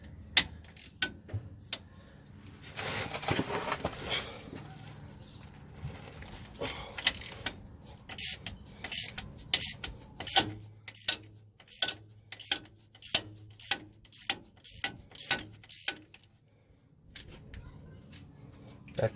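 A ratchet with a 14mm deep socket loosens a Toyota differential vent valve, giving quiet scattered clicks at first, then a run of sharp, evenly spaced ratcheting clicks close by, with a voice heard briefly early on.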